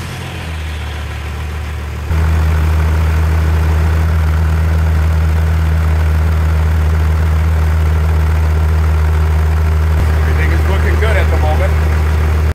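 A second-generation Ram pickup's Cummins diesel idles loud and close with a deep, steady rumbling drone after starting up, continuing evenly throughout, with faint knocking clatter near the end.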